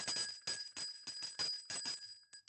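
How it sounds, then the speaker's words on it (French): A small handbell rings in quick repeated strikes, about eight or nine bright metallic rings with a lingering tone, close and fairly loud in a quiet room. "pour fêter ça, je vais jouer de la cloche"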